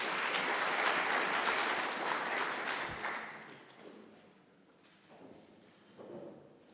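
Applause from a conference audience at a petroleum local content policy consultation, loud and dense at first, then fading over several seconds to a scattered patter with a few late claps.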